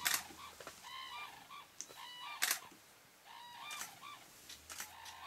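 Red-crowned cranes calling back and forth in a territorial duet, loud honking trumpet-like calls in repeated bursts, carried clearly from some distance outdoors, with no speech.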